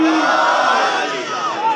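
A religious gathering crowd shouts the Nara-e-Haidari slogan together, one loud, sustained chorus of many voices held for under two seconds.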